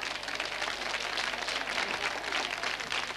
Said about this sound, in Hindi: तालियां जोरों से बजाइए आप